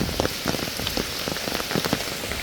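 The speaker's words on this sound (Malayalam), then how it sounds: "അത്യാവശ്യം നല്ല മഴയുണ്ട് ഇവിടെ" Heavy rain pours steadily, a dense wash of drops with frequent close, crisp splatters on a nearby surface, loud and continuous with no voices.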